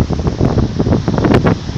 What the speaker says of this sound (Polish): Wiatr strasznie wieje.